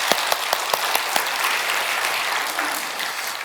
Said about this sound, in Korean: 우리 한번 다 같이 하나님과 함께 영광의 박수 한번 올리겠습니다.